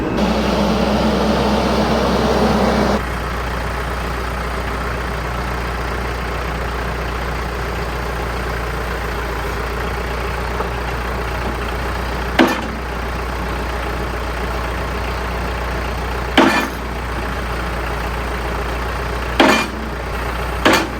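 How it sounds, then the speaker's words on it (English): A tractor engine idles steadily and low throughout, close and unchanging, with a few sharp clanks popping up in the last seconds. "We'll just use the tractor bucket to drive our T-post in the ground"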